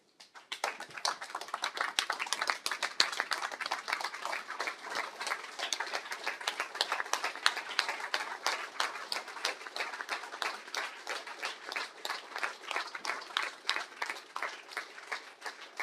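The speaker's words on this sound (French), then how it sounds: "Et je demanderai, madame et monsieur, de vous lever debout pour applaudir le travail de Dr Mukwege." A standing audience at a ciné-conference in Melun applauds the work of Dr Mukwege: sustained, crisp clapping from a large crowd, swelling quickly and staying thick and even for a long stretch before tapering slightly.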